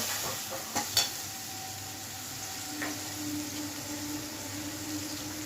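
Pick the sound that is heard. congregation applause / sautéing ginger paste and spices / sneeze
sautéing ginger paste and spices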